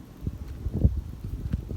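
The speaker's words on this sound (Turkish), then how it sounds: "Burada da rüzgar esiyor ya." Outdoor wind buffets the microphone in low, uneven gusts that thump and rumble for a couple of seconds, with no one talking.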